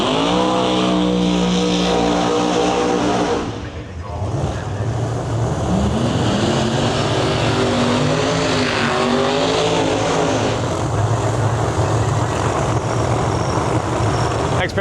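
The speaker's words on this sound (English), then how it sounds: "far side of the track, that is the Brian Karate Gotham Racing Camaro" Pro Mod drag racing cars, including a Camaro on the far side of the track, roar loudly through a pass at a drag strip, with sweeping engine tones rising and falling under continuous crowd and track noise.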